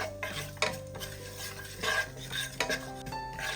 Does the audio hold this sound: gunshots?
no